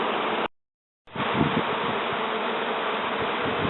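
A dense swarm of honeybees hums continuously around wormwood beside a hive, with steady droning broken by a brief gap of silence early on, with wind and rustling underneath.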